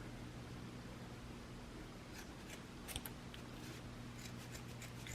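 Sharp scissors snip through a cloth sock, a few quick cutting clicks and crunches near the middle of a steady hissing background, close and fairly quiet.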